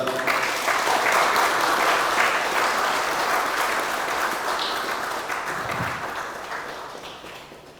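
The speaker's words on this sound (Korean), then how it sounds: "여러분의 박수로 모시겠습니다" At an 80th-anniversary memorial ceremony for the Bumin Hall bombing, an indoor audience applauds in a long, dense, even wash of clapping that slowly fades.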